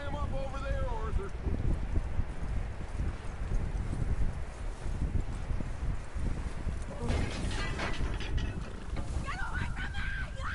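Steady clip-clop of horse hooves in Red Dead Redemption II under wind and talking voices, with a few brighter tonal sounds toward the end.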